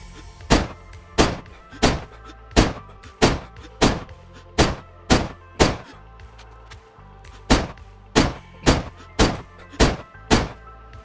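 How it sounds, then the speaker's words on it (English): Dragunov 7.62 rifle gunshots in a video game firing in a steady semi-automatic rhythm, about eighteen sharp loud reports in two bursts separated by a brief pause, each followed by a short decaying tail. "Let's take some shots with the popular Drugunov."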